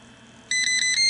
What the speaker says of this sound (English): the alarm is presented again